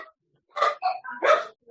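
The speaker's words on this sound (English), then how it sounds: "Whoever has barking dogs, if you could mute" Three short, close dog barks, the first clipped, the last two sharp and loud with brief pauses between them, and no other sound.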